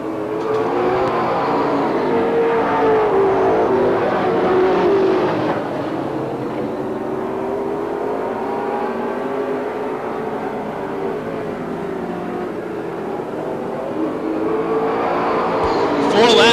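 Race cars at Star Speedway roar around the track in a sustained engine drone that rises and falls as they pass, with a race announcer talking over the noise.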